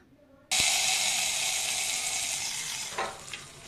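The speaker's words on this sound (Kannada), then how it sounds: "ಈಗ ಒಂದು ಸ್ಪೂನು ಸಾಸಿವೆ ಕಾಳು ಹಾಕಿದ್ದೀನಿ ಒಗ್ಗರಣೆ ಆಗ್ತಾ ಬಂತು" After a brief quiet moment, a sudden loud sizzle bursts out as mustard seeds hit hot oil for tempering. It crackles steadily and fades slightly, with a few faint clinks.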